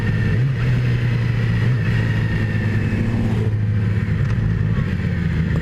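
A 2017 Yamaha R6 motorcycle engine downshifting without the clutch while riding, a steady loud drone that drops in pitch as the gear changes, with wind rush underneath.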